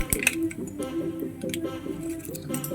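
Mustard seeds dropped into about three tablespoons of hot oil in a pan on the stove, a busy close crackle of small pops and sizzles spread across the whole moment, with no one talking over it.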